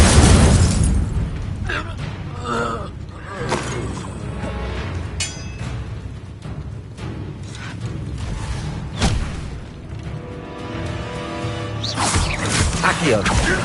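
Repeated fire spell casts in the Hogwarts Legacy video game, heavy booming bursts and crackling blasts recurring every second or two amid dense combat effects, with voices speaking over the action.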